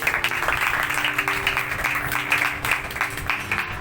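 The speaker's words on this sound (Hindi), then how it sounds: "चले ताली जोरदार" An audience at a gathering claps together in a steady, dense round of applause lasting several seconds, with faint voices mixed underneath.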